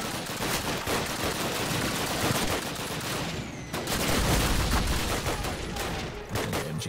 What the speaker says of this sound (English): more MG42s, lovely. Who doesn't love that amazingly horrifying sound?